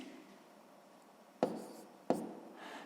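A pen writes numbers into a school notebook during a sixth-grade math exercise, with two sharp, close strokes or taps standing out over faint, soft scratching and room hiss.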